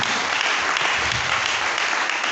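A congregation applauding at a church service led by an apostle in Togo: dense, steady clapping from many hands that holds at an even level throughout without a break.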